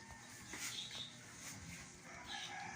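A pet rooster crows at a distance, faint, in one drawn-out call over steady background noise.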